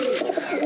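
A caught pigeon held in the hand, giving a brief close coo with a low throaty warble.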